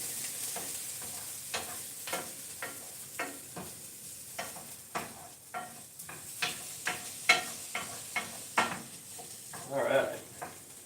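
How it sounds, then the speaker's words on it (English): Garlic sautéing over medium heat in a pot, with repeated clattering stirs and scrapes at an irregular rhythm over a faint, low sizzle, close by and without talk. "Let's add some garlic. Give that another minute. And we're sauteing over medium heat."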